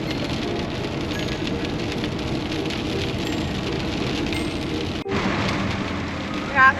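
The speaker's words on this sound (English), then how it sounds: "And it's raining hard." Heavy rain pounding steadily on a vehicle driving through the French countryside near tunnels, a dense, loud hiss blended with low road rumble, briefly dipping once before resuming.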